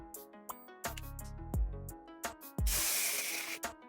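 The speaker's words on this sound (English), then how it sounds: "I'm just gonna go in and I have like a little bit of hairspray left." A hissing aerosol spray bursts out for about a second, joined by short clicks and thumps before and after it, close to the mic.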